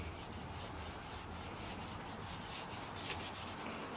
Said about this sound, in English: is sanding his valve cover because he's gonna repaint it